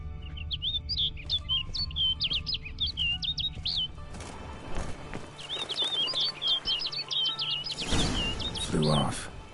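Bird chirping in The Witcher 3: repeated bright, quick chirps and tweets in two bursts, with game ambience and a brief louder whoosh near the end.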